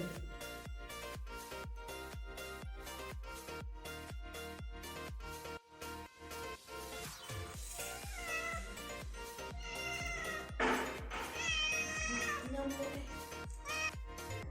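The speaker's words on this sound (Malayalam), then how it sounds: "അങ്ങനെ പൂച്ചക്കുട്ടി വന്നിക്കണം കേട്ടോ, എന്തെങ്കിലും ഉണ്ടോ എന്ന് ചോദിച്ചിട്ടേ വന്ന് തിരഞ്ഞടക്കണുണ്ട്" A kitten meows several times, thin and high, over steady rhythmic background music with a regular beat.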